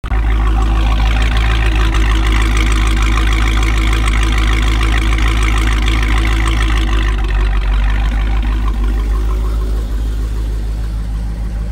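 A car engine idles through a Corsa exhaust with a deep, steady, loud grumble that carries on without a break, close up.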